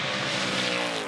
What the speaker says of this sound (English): It's a jet, yeah. It's a jet.